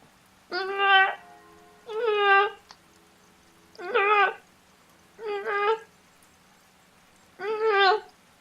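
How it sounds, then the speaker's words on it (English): A cat gives five separate meows spaced about a second or two apart, each a short, clear cry close by, against a quiet background with a faint low hum; no talking. "Cat."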